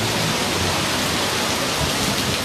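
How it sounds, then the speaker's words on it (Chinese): Heavy rain pours outdoors on a Prince Edward street in Hong Kong, a dense, loud, unbroken roar of drops on surfaces filling the whole moment with no talking. "好好撚大雨啊出邊。"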